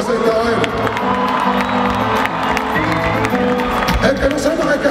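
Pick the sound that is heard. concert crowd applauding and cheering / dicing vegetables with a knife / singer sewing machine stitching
concert crowd applauding and cheering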